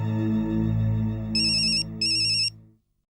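A telephone rings while a call is being placed: two loud, bright electronic trill bursts sound over a sustained low tone, then everything cuts off abruptly, heard in a scene from a Hindi sitcom episode.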